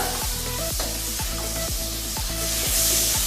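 Chilled butter melting in a hot wok sizzles steadily and close, with regular rhythmic scraping or stirring strokes recurring about every half second and no voices.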